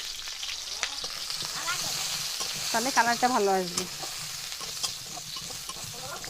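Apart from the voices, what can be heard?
cauliflower frying in a pan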